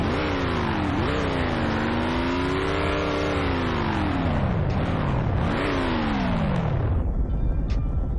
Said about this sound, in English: Now, Fennec, start up and rev your CT6.